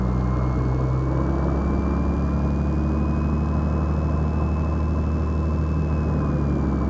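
Steady engine drone of a Piper Comanche 250 light aircraft held at 1500 RPM, a constant deep rumble with a thin high whine on top, loud and close in the cabin, without speech.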